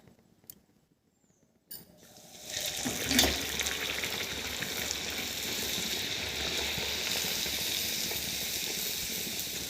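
Puris deep-frying in hot oil in an iron kadai, starting with a few clinks before a loud, steady bubbling sizzle takes over and holds to the end.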